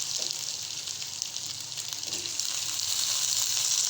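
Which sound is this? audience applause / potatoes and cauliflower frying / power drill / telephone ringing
potatoes and cauliflower frying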